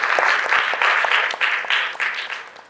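Audience applause for a speaker at a stage event celebrating a book of radio memoirs: a dense, steady wash of many hands clapping, close and fairly loud, fading slightly over nearly three seconds.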